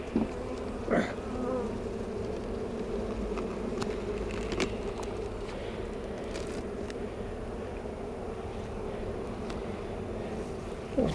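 A dense, steady buzz of many honeybees around a hive fills the air close by, with occasional individual bees droning louder as they pass near.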